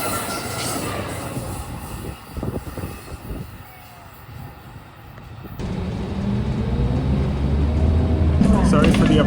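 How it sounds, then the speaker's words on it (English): A fast MARC commuter train rushes through Brunswick station on the Brunswick Line, a rising rumble of rail noise and wheel hiss that builds louder toward the end, with a brief quieter stretch in the middle. "We have the fast train coming through now."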